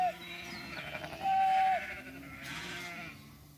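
Sheep bleating in a pasture, with one clear drawn-out bleat in the middle rising over a quieter background of other animal calls, moderately distant.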